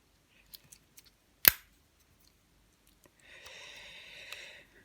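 Small scissors on a Victorinox Swisschamp pocket knife, with their spring mechanism, snap once sharply and closely after a few faint ticks, followed by a soft rustling scrape.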